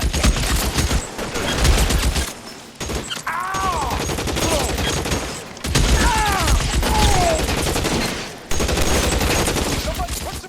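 Gunfire in the detective video game LA Noire, loud continuous volleys of shots and mechanical clatter with brief pauses, and shouted voices mixed in.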